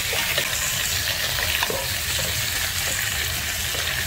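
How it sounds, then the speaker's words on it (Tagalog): Onion and garlic sautéing in a hot pan, a steady close sizzle with faint stirring clicks and scrapes throughout, no voices. "Para maigisa sa sibuyas, bawang."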